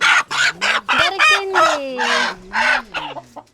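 A village hen at a tribal home in the Araku area clucks loudly and close in a rapid series of short, throaty calls, with no other sound around them.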